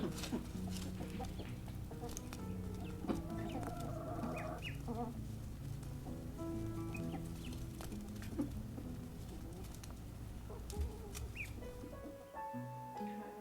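A hen clucks softly now and then against a steady, low background murmur, with a few brief higher calls scattered through.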